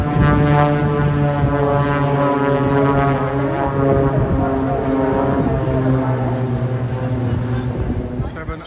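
Red Arrows jet aircraft roar overhead at the Eastbourne Airbourne airshow, a loud sustained engine drone with steady harmonic whine and shifting pitch, close and continuous.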